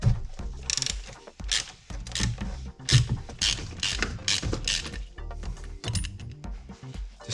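Ratcheting and clanking of a socket wrench on a 27mm socket with a swivel adapter and long extension, loosening the oil filter on a Mini Cooper S Countryman; repeated close mechanical clicks and metallic knocks in uneven bursts, no voices.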